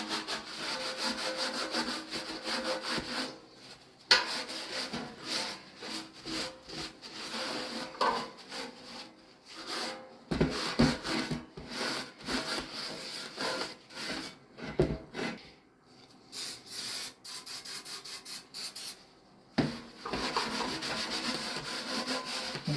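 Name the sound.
cloth rubbing furniture wax onto a vintage fuel can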